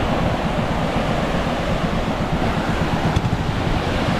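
Rough sea waves churn in a constant loud roar, with wind-like rushing and surf noise throughout and no distinct breaks.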